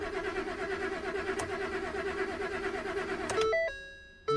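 A 2015 Ford F-150 truck engine gives a steady, pulsing cranking drone that churns without catching, then cuts off and gives way to a chime of warning tones.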